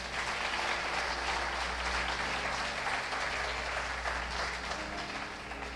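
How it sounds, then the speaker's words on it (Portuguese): A church congregation claps steadily in praise to God during a sermon, a dense, continuous wash of applause with a faint sustained hum beneath it. "Dá uma salva de palmas ao Senhor."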